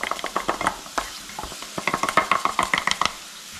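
Ivy gourd (kovakka) curry frying as ground masala is mixed in, heard as a rapid run of close, crisp utensil scrapes and taps against the pan over a light sizzle.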